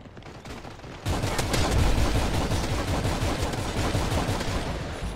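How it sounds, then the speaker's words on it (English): AS-12 shotgun fire in a Modern Warfare search-and-destroy match hammers a riot shield, a sudden dense burst of rapid, loud blasts starting after a quiet second and continuing steadily to the end. "how many overwhelming shots of a shotgun do I need to put on your riot shield to break your riot shield in half?"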